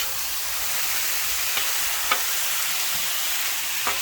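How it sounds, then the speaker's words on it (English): Chicken wraps sizzle steadily on a hot griddle, its right burners on high and left on low, a continuous dense frying hiss with a few faint clicks and no talk. "Hear the sizzle. Listen to that."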